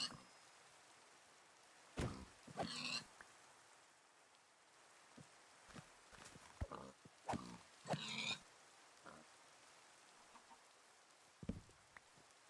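Pigs in Minecraft grunt in short snorting bursts scattered through a quiet stretch, several clustered grunts separated by pauses, with faint soft thumps and light background noise.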